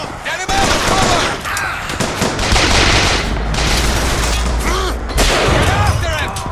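Loud, dense gunfire in the video game Bioshock Infinite, with rapid overlapping shots, booms and machine-gun bursts close up, while in-game voices shout over the battle.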